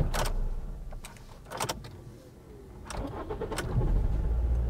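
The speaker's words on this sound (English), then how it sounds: "the real test is gonna be whether this car will start again once we turn it off now" A Ford C-Max with electrical issues: clicks and rattles, then the engine cranks and catches, settling into a low steady idle that grows louder toward the end.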